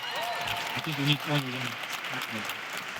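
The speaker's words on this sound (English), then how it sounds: "Please give them a round of applause as they come." An audience applauds steadily, a broad wash of clapping while a voice speaks briefly over it.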